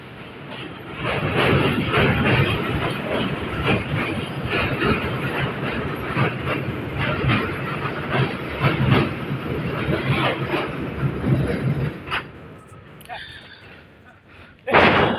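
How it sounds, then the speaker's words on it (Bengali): Large intercity train crossing the Teesta bridge near Rangpur, heard from below as a loud, continuous rumble with clattering wheels and metallic bangs, fading near the end, with a voice talking over it. "চোখের সামনে দিয়ে ট্রেনটি চলে গেল"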